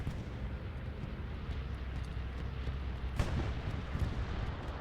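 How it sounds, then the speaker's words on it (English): Distant bombing run in the video game Hell Let Loose, with a steady low rumble of blasts and one sharper explosion near the middle, no talk over it. "Here comes the bombing run."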